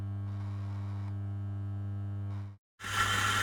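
Eureka Single Dose coffee grinder running empty with no beans, a steady close electric motor hum that stops abruptly after a couple of seconds, followed by a brief silence and then a loud, bright burst of noise.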